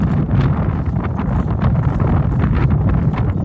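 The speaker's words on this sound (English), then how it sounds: "Now we got wind." Outdoor wind buffeting a microphone during a model rocket recovery, a loud continuous rumbling roar with gusty fluctuations and no speech.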